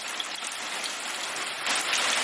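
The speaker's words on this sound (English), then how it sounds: "I made this RainStick and immediately it rains" A homemade rainstick built from scrap wood gives a steady, close, rain-like rushing hiss that swells slightly louder near the end, with no voices.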